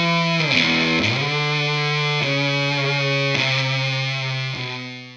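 An electric guitar is played through a Soundblox Pro Classic Distortion pedal, giving a thick, sustained distorted tone as several chords are struck one after another and left ringing.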